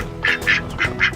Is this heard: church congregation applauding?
no